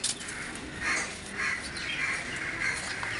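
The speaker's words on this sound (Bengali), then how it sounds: "সব নিস্তব্ধ হয়ে যায়, শুধু পাখির ডাক শুনতে পাওয়া যায়" Birds call at midday outdoors on a hot, hushed afternoon, with several crow-like caws repeating at intervals over a steady hiss of background noise; no voices.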